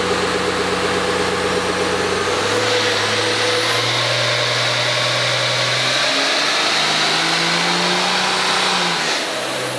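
Triple turbo truck engine revving hard on a dyno, loud and continuous, holding a steady roar before the pitch climbs and swells under load with a rising turbo whine, no talking.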